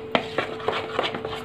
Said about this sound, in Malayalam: വിസ്ക് വെച്ചിട്ട് നന്നായിട്ട് മിക്സ് ചെയ്യാം